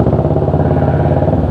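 A big bike's engine rumbles steadily nearby with a deep, even low-end throb and light mechanical clatter, running continuously at what sounds like idle with no voices over it.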